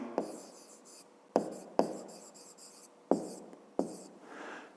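Pen or chalk strokes while writing out a math expression, a handful of sharp taps and short scratchy strokes spaced irregularly, close and quiet.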